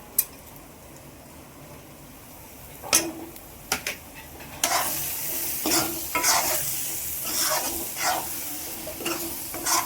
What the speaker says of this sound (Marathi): हा मसाला आपण लाल करून घेऊया.